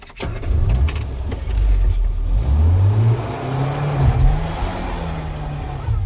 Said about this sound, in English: We took off with a judder and a weave in true learner fashion